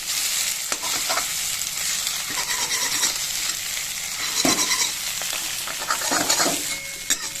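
Scrambled egg stirs and fries in a pan over low gas, giving a continuous close sizzle broken by repeated scraping strokes of a spatula.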